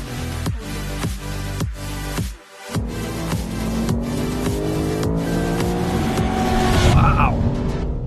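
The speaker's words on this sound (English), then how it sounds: "Always love driving the RCF. This Sounds good, good power." A 2020 Lexus RC F sports car accelerates hard on a raceway, its engine revving through rapid gear changes in a rising, rhythmic roar heard from inside the car, with a voice talking over it.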